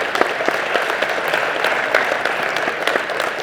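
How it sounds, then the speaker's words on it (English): Attendees at a regional racers' hall of fame induction ceremony give a round of applause, a dense, steady crowd of clapping hands with a few sharper close claps standing out, continuous throughout. "let's give them one more round of applause for this year"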